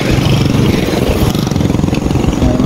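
Motorcycle engine running nearby in an outdoor setting, a loud continuous throbbing putter with rough pulsing texture and no clear speech over it.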